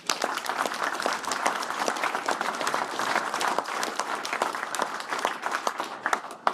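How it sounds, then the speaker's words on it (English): A round of applause from the audience at a UKIP political rally in Bolton, brisk dense clapping with sharp individual claps standing out, sustained at a steady level with faint crowd murmur beneath. "I'd like to give him a round of applause."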